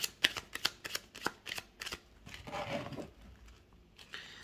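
Tarot cards riffled and shuffled by hand in a quick run of crisp, papery flutters and slaps, close up, with a longer rustling shuffle in the middle and no voices.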